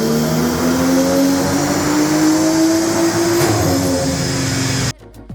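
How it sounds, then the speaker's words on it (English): A BMW M car with a stage 1 software tune roars on a dyno, its engine note climbing steadily in one loud, continuous pull before cutting off abruptly near the end. "let me show you guys our dyno run after the tune"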